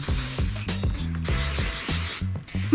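Spray paint hisses onto a doll in bursts, with the can's rattle and nozzle clicks between sprays, loud and close.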